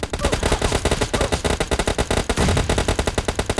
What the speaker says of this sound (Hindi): मेरा टीममेट ओपी कवर फायर देता है और एक बंदे को नॉक कर देता है।